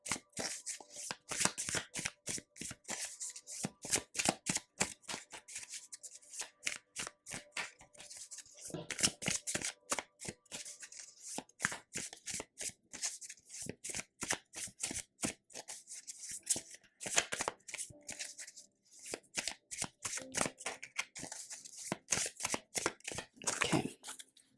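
Tarot cards being shuffled and drawn by hand, a long run of rapid, crisp riffling flicks in quick bursts with brief pauses, close and fairly quiet.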